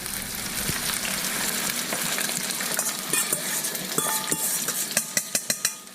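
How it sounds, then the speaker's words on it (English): A honey mixture for a salmon dish is whisked by hand, building from a steady soft scraping into a run of sharp, rhythmic metallic clinks near the end, over a faint sizzling background. "give it a good whisk real quick"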